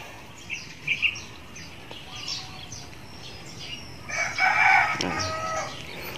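A chicken, a mother hen with a large chick, calls at moderate distance with a few clucking notes, then a louder crowing burst, over quiet outdoor background.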